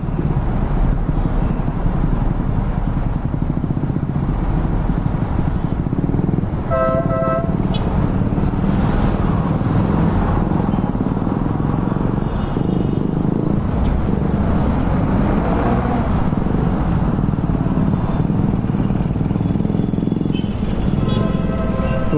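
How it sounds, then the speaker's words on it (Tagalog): Dense heavy road traffic idling at a stoplight, with engines, motorcycles and repeated car horn toots across a loud, continuous roadway roar, heard close from a motorcycle. "Iba na to, matinding traffic ito."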